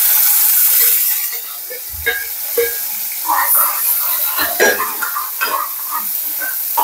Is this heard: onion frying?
yes